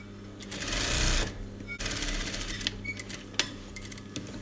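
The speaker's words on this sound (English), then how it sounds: "So I'm stitching all the way down, just controlling these layers." A sewing machine stitches a seam with piping cord in a close, rapid mechanical whirring run that stops and restarts in shorter bursts, with faint handling clicks and no talking.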